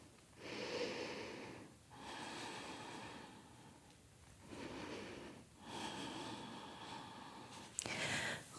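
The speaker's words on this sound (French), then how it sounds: "Prends 2 respirations" Slow, deep breaths during a gentle yoga back stretch, audible inhales and exhales in long, even waves, close and soft, with a brief click near the end.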